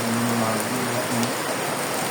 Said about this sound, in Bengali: খুবই বৃষ্টি হচ্ছে